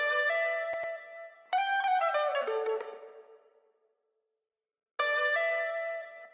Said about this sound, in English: Then again on Splice I just found this electric guitar that sounds like this